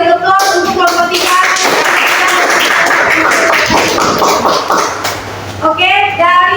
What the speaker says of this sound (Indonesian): beri aplaus untuk kelompok 3